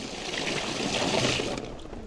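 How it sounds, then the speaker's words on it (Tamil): Steady broadband rush of water pouring continuously at full flow from a tap, fairly close, with no voices over it. "இப்போ தண்ணி ஃபுல்லாக வருது"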